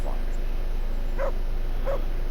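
A dog in the medieval video game Kingdom Come: Deliverance gives three short, clear barks over a steady low background hum.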